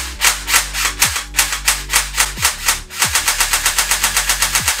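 Airsoft minigun replica, a powerful next-gen model, firing in rapid mechanical bursts: loud, close, fast rhythmic rattling with short pauses between strings of shots and no talking.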